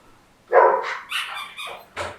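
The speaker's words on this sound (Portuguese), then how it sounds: "Ela ouve o latido o dia inteiro" A dog barks close by in a quick sequence of about four sharp yips and barks, loud against a quiet room.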